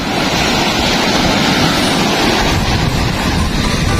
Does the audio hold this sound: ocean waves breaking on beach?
yes